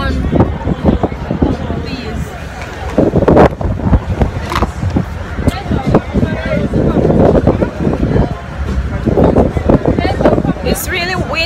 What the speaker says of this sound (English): It's really windy though.